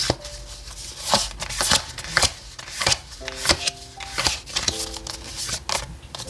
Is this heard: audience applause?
no